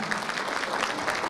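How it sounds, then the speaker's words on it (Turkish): Dense applause from a crowd at a donation gathering, a short, even wash of many hands that holds steady and then cuts off abruptly. "İşte güçlü bir alkış daha geliyor."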